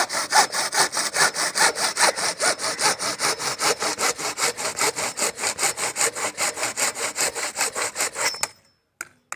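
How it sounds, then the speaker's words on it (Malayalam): A hand saw cuts through PVC pipe pieces with about forty quick, even back-and-forth strokes, loud and close, before stopping abruptly near the end; no speech. "അപ്പോൾ നമ്മുടെ PVCൻ്റെ പീസുകൾ നമ്മൾ 2 മുറിച്ചെടുത്തു."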